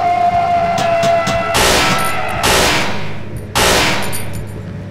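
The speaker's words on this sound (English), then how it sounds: "Wasted one burst fire, less than before." Burst-fire gunshots in the video game Cry of Fear, three loud separate bursts of rapid shots with ringing tails, close and without talk.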